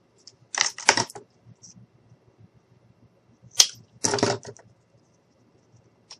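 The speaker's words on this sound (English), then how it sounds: "Now we're just going to cut this little piece off here." A small piece being cut off a wooden craft stick, heard as two short bursts of crisp snapping and crunching separated by a pause, close up and with no talking.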